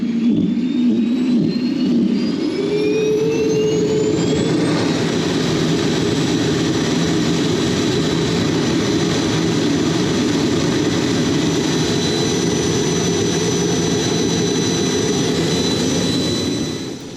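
A Dash 60 ground power unit supplies electrical power to an F-4 Phantom, its turbine whine rising in pitch over the first few seconds and then holding a loud, steady roar close by.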